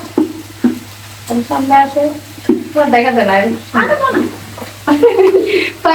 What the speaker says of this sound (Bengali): এই তো রান্না চলছে আমাদের মা মেয়ের রান্না